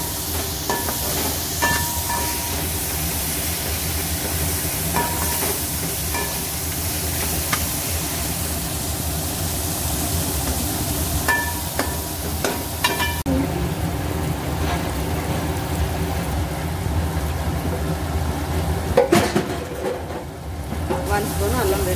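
Chopped coriander, mint and green chilies fry in a pan with a constant crackling sizzle up close. Faint stirring clicks and scrapes come and go over it, with a brief louder burst near the end.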